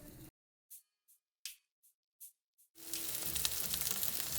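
Zucchini cooking in extra virgin olive oil in a pan, heard first as several faint separate crackles and pops, then as a steady, close sizzle that continues to the end.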